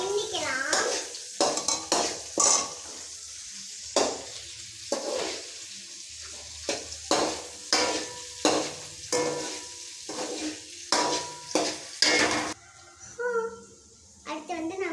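Onion and garlic fry in a pan for brinjal kuzhambu while being stirred, with soft sizzling and spoon scrapes under frequent talking by a child.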